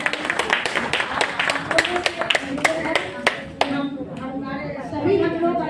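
An audience at an NGO gathering on violence against women and children claps in a quick, roughly even rhythm of sharp hand claps. The clapping thins out partway through as voices and room murmur take over.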